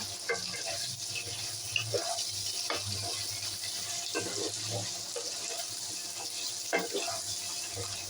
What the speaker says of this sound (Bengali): এর মধ্যে আমি এবার 1 চামচ আদা বাটা দেব। দিয়ে এটাকে আমি এবার মিশিয়ে নেব।